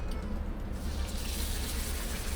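Water splashing and hissing into a hot pan of frying gyoza filled with cotechino, a steady broadband sizzle and rush that holds loud and even from start to finish.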